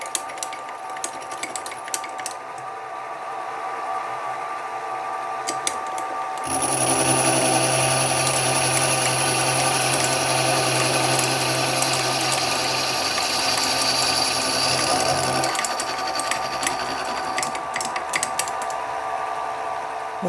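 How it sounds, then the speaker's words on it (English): A milling machine cuts the sides of a valve chest for a Stuart half beam steam engine, a steady loud whine and grinding hum running for about nine seconds between quieter stretches of workshop idle and faint tapping. "the milling of the sides worked out okay"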